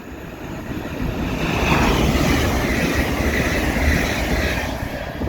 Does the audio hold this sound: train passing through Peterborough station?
yes